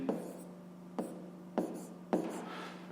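Pen strokes writing fractions by hand on paper, four short scratchy bursts spaced about half a second apart, close and fairly quiet over a steady low hum.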